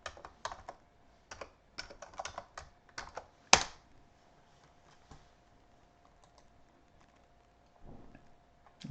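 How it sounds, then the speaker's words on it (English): A password is typed on a computer keyboard, with quick bursts of close key clicks, one sharp louder keystroke, then mostly quiet with a few scattered taps. "so we're going to log into Kali here. Username, the password, which is just simply password but with a 0."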